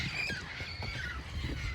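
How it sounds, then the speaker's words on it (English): Parrots at an outdoor swap meet let out short, harsh squawks and squeals in quick succession, close and fairly loud over a busy background. "Parrots would stop chirping."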